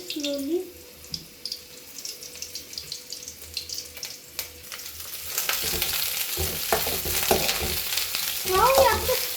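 Onions are tipped into a hot pan for a paneer curry, and the sizzle swells from quiet clatter into a loud, steady frying hiss near the end, close up with no speech.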